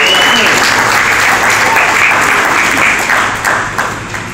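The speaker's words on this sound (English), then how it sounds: "Give yourself a round of applause." An audience gives itself a round of applause, loud and close, strong at first and then thinning out toward the end, with a bit of vocal noise mixed in.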